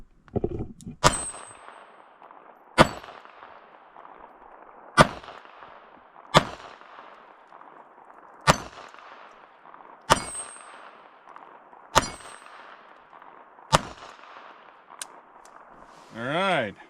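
A Beretta Tomcat pistol fires about eight single shots at an irregular, unhurried pace, each a sharp crack with a ringing metallic clang from steel targets, followed by a short rattling noise at the end.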